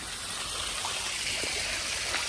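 Raw sewage trickles and gushes from a leaking outfall into the River Croal, a steady close rushing of running water with no voices.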